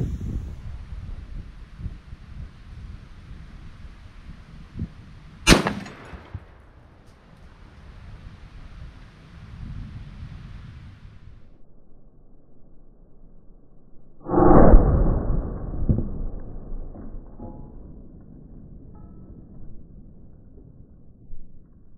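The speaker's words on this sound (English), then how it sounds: "I just shot the 30-06 from the table" A 30-06 rifle fires outdoors at a 20 pound dumbbell, giving one sharp, loud crack midway, then a heavy booming impact or report later, all over steady gusting wind buffeting the microphone.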